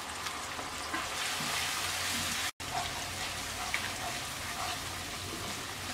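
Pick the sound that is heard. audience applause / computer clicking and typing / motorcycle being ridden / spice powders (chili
spice powders (chili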